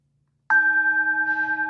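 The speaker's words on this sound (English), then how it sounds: "get our opening bell" A single meditation bell opening a yin yoga session is struck once, ringing out clearly with a pure, sustained tone that wavers gently as it lingers.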